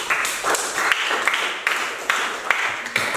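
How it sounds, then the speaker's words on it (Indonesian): A school class applauds a group of students in a classroom, with bursts of crisp hand claps that keep coming back in an uneven, rolling rhythm. "Tepuk tangan untuk kelompok ini"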